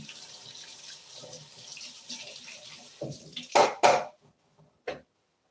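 Water runs from a kitchen tap for rinsing, a steady hiss for about three seconds, then clatter of dishes and a few sharp knocks as it shuts off.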